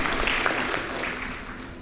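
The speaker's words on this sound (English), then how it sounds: "let's give Marvet a round of applause for leading this great team" Applause from the audience at an academic conference session: a short, fairly faint, even patter of many hands clapping that fades slightly over two seconds.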